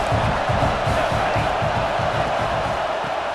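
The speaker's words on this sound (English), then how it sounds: "Man, this crowd really affecting the football game." A home crowd roars at a college football game, a dense, loud, sustained wash of stadium noise with rhythmic surges, no clear individual voices.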